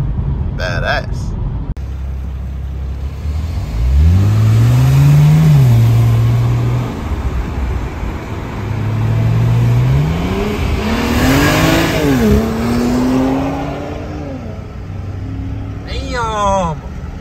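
A BMW 135i accelerating hard through its gears, the engine revving up in rising sweeps with quick shifts between them, loud and close inside the car, with people talking and exclaiming over it.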